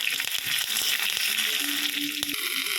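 Loud, close sizzling and crackling of cumin, garlic cloves and curry leaves frying in hot oil for mango pickle, with sharp pops scattered throughout.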